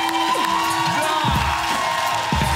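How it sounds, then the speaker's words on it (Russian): A crowd cheers and whoops over steady applause at a live comedy show, with scattered shouts rising and falling throughout. "аплодисменты"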